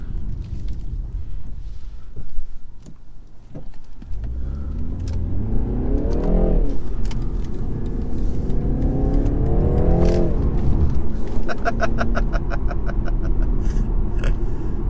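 A BMW 330i Touring pulls away from a standstill, engine note rising through two gear changes with rising harmonic sweeps, then holding a steady loud drone with road and wind noise; no talking.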